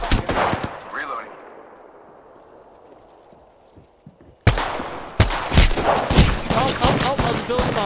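Gunfire from a video game shooter: loud bursts of shots open the clip, a quieter stretch follows, then dense rapid volleys resume near and loud in the second half.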